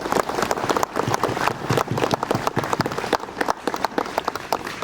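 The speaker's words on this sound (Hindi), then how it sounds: "ताली बजाएंगे।" A church congregation claps at a parish jubilee-year inauguration, dense continuous applause from a crowd filling the space, loud and close throughout.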